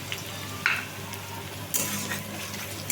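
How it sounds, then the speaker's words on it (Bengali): Onions fry in plenty of oil with a soft steady sizzle, broken by a couple of brief stirring scrapes in a quiet kitchen. "পেঁয়াজটা খুব বেশি ভাজবো না"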